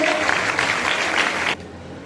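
An audience at a women's self-help group gathering in rural Maharashtra claps together in dense, sustained applause that cuts off abruptly near the end, leaving faint room noise.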